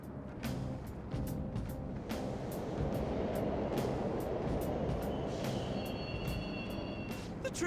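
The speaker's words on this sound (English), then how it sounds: "The trains are totally running" Subway trains running in an underground station in the video game Persona 5 Royal, a loud continuous rumbling roar with rattling clicks and a rising metallic whine, no voices over it.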